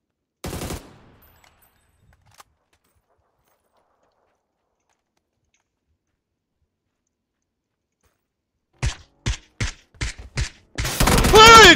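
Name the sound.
gunfire in a video game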